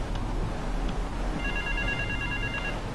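An in-game telephone rings in Grand Theft Auto III, a steady electronic double-tone ring repeating over a dense background of traffic and engine rumble, moderately loud and without speech.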